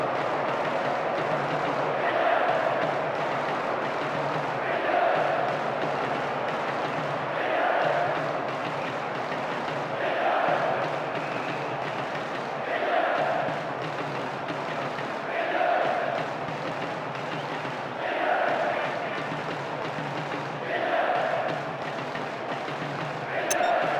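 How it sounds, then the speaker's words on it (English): Crowd jeering in a Pro Evolution Soccer 2010 Champions League match: a large stadium crowd roars in waves that swell and fade roughly every few seconds, a broad continuous din with rising surges. "The crowd giving both manager and players some serious stick."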